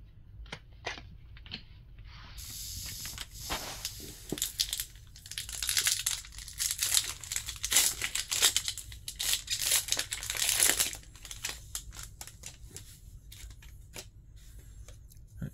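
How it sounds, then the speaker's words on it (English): Lorcana trading card booster packs tear open and their foil wrappers crinkle up close, with ripping and rustling bursts, the busiest stretch in the middle, and occasional soft card handling. "These packs seem to be opening pretty easy."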